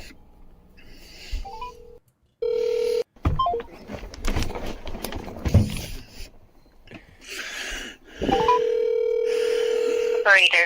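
Telephone line audio: a steady dial tone, a burst of DTMF dialing beeps, and another sustained tone near the end, with brief pauses between, a few clicks, and some background voices in the gaps.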